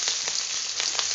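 Onion, garlic, chili and whole cumin seeds fry in hot oil, giving a steady, close, fairly loud sizzle with a few brief crackling surges and no voices.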